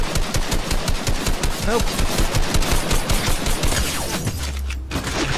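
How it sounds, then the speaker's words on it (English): Rapid automatic gunfire in the Fortnite video game, a dense, loud, fast-repeating stream of shots that continues for several seconds, ending in a low thud, with someone briefly speaking over it. "Let me try and shoot you while you're healing up"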